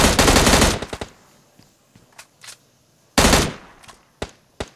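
Two loud bursts of automatic gunfire from PUBG Lite as a player finishes off a downed enemy, each rapid volley about a second long, separated by scattered single shots and distant pops.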